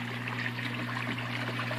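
Water trickling steadily from a small return tube into a backyard aquaponics tank, a soft continuous dribble with a low hum underneath, close and unbroken.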